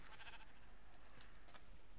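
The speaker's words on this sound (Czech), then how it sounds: "Růžová ovce." A pink sheep in the Minecraft video game bleats a couple of times, thin and fairly faint, over a steady hiss of game background noise.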